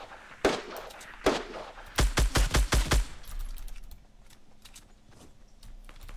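Gunfire in a Fortnite battle royale match: two sharp single shots a second apart, then a fast run of about six loud cracks, followed by fainter distant pops and quiet.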